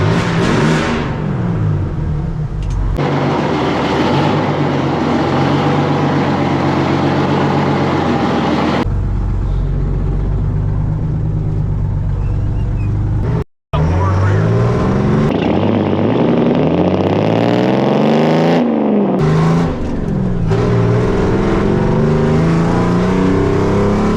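A Detroit 6-71 diesel engine in a revived Ford hot rod runs loud and close, climbing and dropping through rev changes while driving, with a brief cut in the middle.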